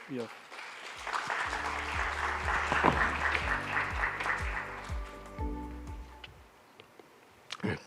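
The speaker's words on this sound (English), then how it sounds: "So may I suggest welcome him with some applause." Audience applause at a conference session, a steady broad clatter of clapping that swells, holds for several seconds and then thins out, with a voice speaking over it and a few sharp taps near the end.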